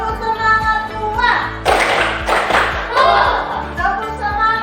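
In a classroom, a group of children claps out a patterned spirit-clap routine, crisp close hand claps in rhythmic clusters mixed with chanting voices.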